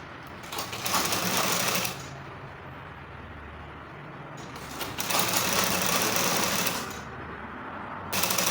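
A sewing machine top stitches a seam on a women's trouser in three loud, rapid whirring bursts separated by short pauses, close and alone.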